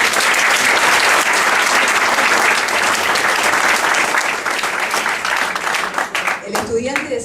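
Sustained audience applause at a university history teacher-training program event, dense and loud throughout, tapering near the end as a voice begins to speak.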